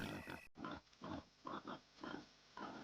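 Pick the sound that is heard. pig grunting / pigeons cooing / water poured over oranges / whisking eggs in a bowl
pig grunting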